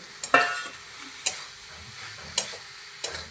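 Fried potatoes get stirred in a pan for a banana and fish curry: four or five sharp spatula scrapes and taps over a quiet, close sizzle.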